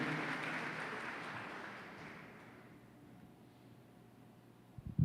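A church congregation applauds during a worship service, clapping that starts fairly loud and thins out as it fades over a few seconds, then a couple of sharp knocks at the end.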